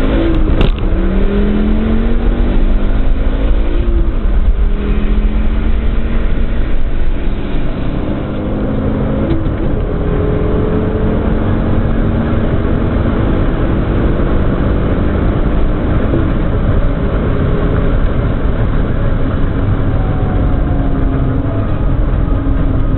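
Turbocharged five-cylinder car engine running loud and close with a continuous, steady drone that barely varies in level, heard alone without talk.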